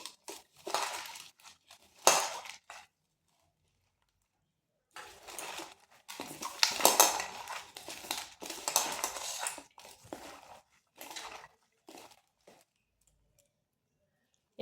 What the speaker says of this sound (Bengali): এই লবণটা দিয়ে ভালো করে শাকটাকে এভাবে চটকে নিতে হবে